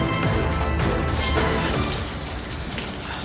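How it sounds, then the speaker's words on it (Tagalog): Heavy rain pouring down near a fire in Kapitolyo, Pasig, captured on a cellphone: a dense, loud, continuous hiss of falling water with a brief heavier splash early on. "Dinig pang pagbagsak ng ulan sa cellphone video ito ng isang residente malapit sa sunog"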